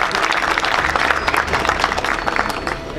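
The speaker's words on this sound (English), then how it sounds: "Please give them a huge round of applause." A short burst of steady audience applause in a hall at an educational conference on a university campus, dense and fairly loud, lasting about three seconds with no speech over it.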